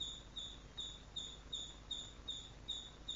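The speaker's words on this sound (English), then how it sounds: "I don't resist the sound of an insect chirping." Crickets chirp in a steady, even rhythm, with about eight short pulses evenly spaced and standing clearly above a quiet background.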